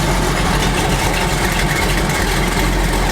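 A car engine fitted with an Edelbrock AVS2 carburetor and cheap mufflers idles steadily, a loud, continuous low rumble that holds even from start to finish with no other sounds.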